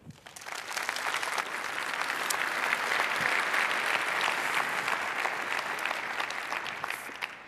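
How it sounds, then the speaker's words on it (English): Conference audience applauding to welcome a speaker onto the stage, clapping that swells quickly to a full, steady roar and holds evenly before easing off at the end. "Please welcome her with a lot of applause."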